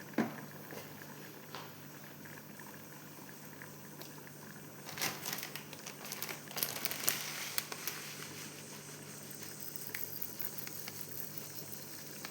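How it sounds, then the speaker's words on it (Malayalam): Mustard seeds spluttering in hot coconut oil, a steady crackling sizzle with scattered sharp pops that grow busier midway, close and without talk. "വെളിച്ചെണ്ണ ഒഴിച്ച് കടുകിട്ട് കൊടുക്കട്ടെ."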